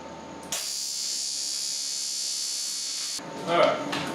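A welder tacks radiator parts together, putting out a steady harsh buzz that holds for about two and a half seconds. Quieter noise comes before it, and a brief louder burst follows.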